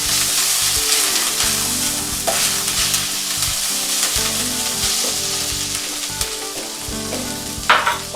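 Onions fry in a hot pan with a steady, close sizzle and crackle, joined by intermittent stirring scrapes and clinks throughout, with no talking.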